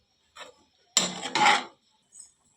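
A metal lid set onto a cooking pot while egg curry simmers, giving a faint light tap, then a louder scraping clatter of about three-quarters of a second, followed by a soft clink.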